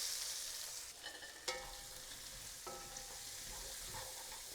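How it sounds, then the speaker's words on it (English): Onions and cumin seeds frying in hot oil give a quiet, even sizzle, broken by a couple of metallic clinks that ring briefly, likely a utensil against the pan. "Then I'm going to add the onions once the oil is hot."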